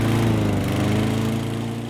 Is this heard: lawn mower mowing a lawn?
yes